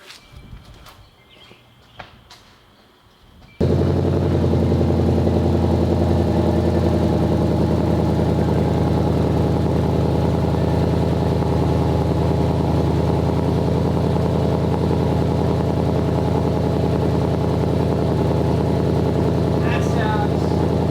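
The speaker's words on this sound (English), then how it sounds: "Who wants to hear a cold start?" A 2021 Ford Mustang GT with a modified exhaust cold-starts after a few seconds of near silence, bursting into a loud, deep, steady high idle that drones on close by, with no talking.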